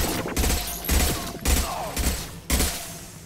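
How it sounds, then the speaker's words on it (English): High impact shots in Mass Effect Legendary Edition fire as a series of about five heavy, punchy blasts at a steady pace, each with a short trailing rumble. "Firing a high impact shot"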